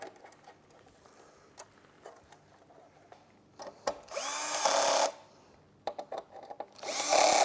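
A power screwdriver drives screws into the gas bottle holder on a BBQ Master S Luxury grill during assembly, with two loud whirring bursts separated by clicks and handling taps.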